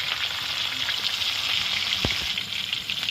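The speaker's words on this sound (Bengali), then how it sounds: "তো আমি মাছগুলো হালকা ভেজে নেব।" Rohu fish pieces frying in mustard oil give off a steady, close sizzle that runs without a break, with one short clunk partway through.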